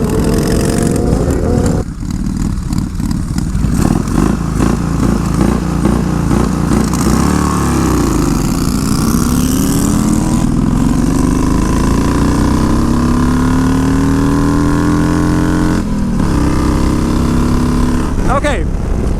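A motorcycle making a drag racing launch attempt on brand-new tyres in the wrong gear: a loud engine revs and rises in pitch, then settles, with a rider talking over it.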